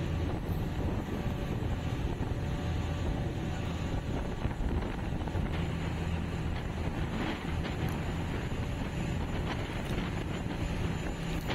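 A fishing boat engine runs at sea on a voyage from Balabac to Buliluyan pier, a steady low droning rumble heard alongside constant wind buffeting the microphone, loud and unbroken throughout.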